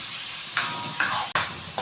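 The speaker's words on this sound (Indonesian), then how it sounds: "Aduknya pelan-pelan aja. Soalnya kalau kencang nanti hancur ikannya." Fish curry sizzles steadily in a pot while a spoon stirs through it in slow, repeated strokes, with one sharp clack against the pot.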